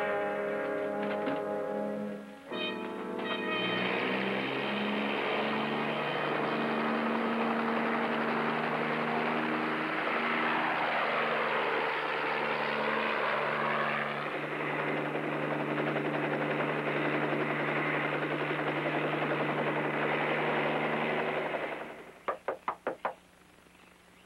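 A loud, steady helicopter rotor roar fills the scene, starting with a rising engine whine and ending with a few sharp thumps as it fades.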